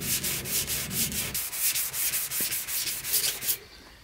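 Filler primer being sanded by hand on an old surface, a steady rhythmic back-and-forth rasp that repeats about twice a second, close and fairly loud, with a brief pause near the end.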